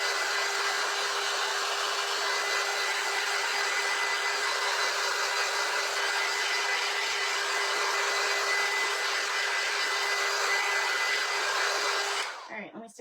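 A hair dryer runs steadily for about twelve seconds while drying a craft board for a snowman sign, then switches off near the end.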